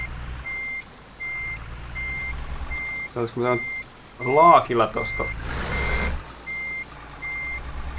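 Truck reversing alarm in Euro Truck Simulator 2, a regular series of evenly spaced high beeps repeating throughout, with someone speaking briefly and a hiss of air brakes midway.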